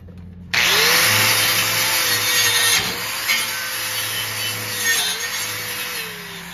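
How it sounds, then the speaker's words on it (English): An angle grinder fitted with a wire brush scrubs across a flat steel weld, a steady loud whine with shifting pitch and harsh broadband scraping, dipping briefly as the brush lifts and bites again. "you can kind of see what the wire brush will do."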